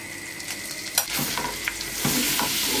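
Butter with tomato paste, chili flakes and black pepper sizzles in a pan while a utensil scrapes and taps through it, giving a few sharp clacks over a steady close fry.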